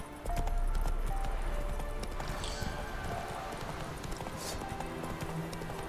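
Horse hooves clip-clop steadily on the ground in a video game as the mount gets moving, a continuous rhythmic trot with ambient game sound and a faint whinny, no talk over it.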